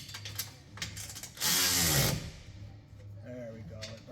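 A ratchet tightening exhaust bolts on a Lexus GS 400 gives a few quick clicking bursts close by, with a louder broadband burst in the middle, among workshop noise and faint background hum.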